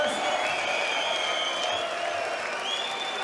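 A darts crowd at the Austrian Darts Open applauds and cheers steadily, a dense sustained wash of clapping and whistles in an arena with no break.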